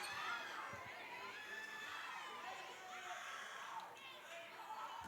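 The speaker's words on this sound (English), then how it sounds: "Crowd not happy about it." Basketball game crowd reacting to a foul, a faint, distant mass of shouting and murmuring voices, jeers and calls blending into a steady hubbub that swells slightly and never stops.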